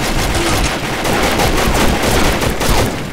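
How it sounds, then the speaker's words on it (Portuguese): Rapid video-game pistol gunfire rattles loudly and continuously, a dense burst of overlapping shots with no pauses. "o cara levou 3 tiros de pistola"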